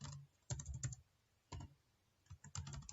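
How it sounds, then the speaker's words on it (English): Computer keyboard keys typed in three quick bursts, clattering clusters of keystrokes separated by short pauses, close and clear in a quiet room. "you can just go and type the drugs name"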